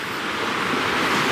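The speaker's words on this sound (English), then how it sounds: "that's where the water's really bashing up against it" Sea waves surge against a rocky shore on a wild coastline, a loud, broad wash of surf that swells slightly toward the end, blended with wind noise and no voices.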